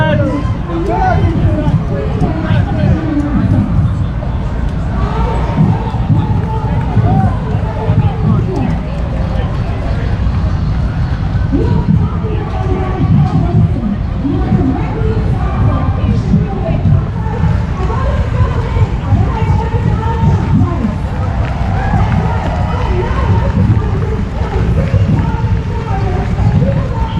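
Dense crowd at the Justice for J6 rally, a constant murmur of many voices with shouting and footsteps close by, loud and unbroken throughout.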